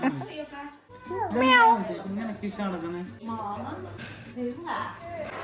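A voice imitates cat meows, several drawn-out, rising and falling mewing calls in a row, close and clear.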